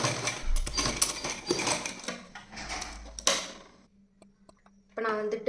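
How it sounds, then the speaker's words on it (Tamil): A sewing machine runs in several quick bursts to lock-stitch a pillow cover, with rapid needle clatter and short pauses in between, near and fairly loud, and a faint voice briefly at the end. "ஸோ லாஸ்ட்லேயே அதே மாதிரி லாக் ஸ்டிச் போடுறோம்"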